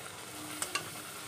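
Rolled dough flatbreads frying in a pan at home, a soft steady sizzle with two brief sharp clinks of a utensil, close and quiet, no voices.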